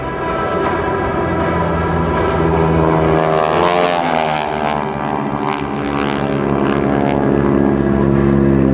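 A GEICO Skytypers propeller airplane roars overhead during a solo bomb run at an air show, a loud sustained engine drone that swells and shifts pitch as the aircraft passes close by.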